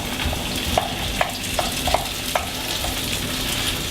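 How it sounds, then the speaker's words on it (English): Curry paste sizzles with softened onions in a pan for lamb curry, a close, continuous fry hiss broken by a few sharp spatula scrapes and taps as it is stirred. "So add the curry paste in."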